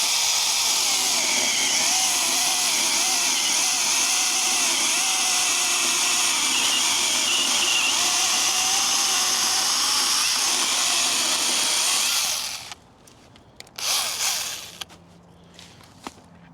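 Battery chainsaw cutting small firewood logs, a steady whining cut lasting about twelve seconds before stopping, followed by a few brief bursts and clatter.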